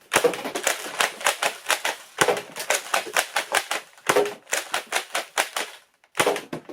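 Nerf Rival Saturn blaster in three-round shotgun mode, giving rapid bursts of sharp mechanical clacks in quick runs with short pauses between groups, close and crisp.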